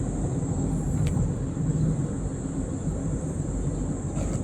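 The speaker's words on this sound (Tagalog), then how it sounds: "lumala lalo yung traffic ngayon" Heavy northbound road traffic in Luzon makes a steady low rumble with a constant high whine, heard from inside a vehicle, with no talking.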